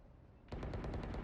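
Rapid automatic gunfire in the Valorant video game bursts in abruptly after a brief quiet, a steady rhythmic stream of loud, close shots with no voices.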